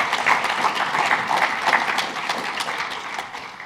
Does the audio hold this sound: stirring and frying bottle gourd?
no